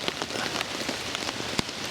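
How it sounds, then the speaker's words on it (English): Heavy rain pattering steadily on a woodland campsite and tarp, a dense hiss of drops with occasional sharper, closer splats, no voices. "it's just been heavy rain all night"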